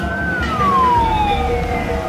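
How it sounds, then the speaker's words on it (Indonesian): Ambulance siren on a road in northern Bali, a loud close wail sweeping slowly downward in pitch, with traffic rumble beneath. "tiba-tiba aja ambulan datang dari arah timur"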